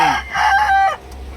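A rooster crows from a backyard flock of fighting cocks, one clear drawn-out call loud and close, followed by a quieter tail and faint background clucking.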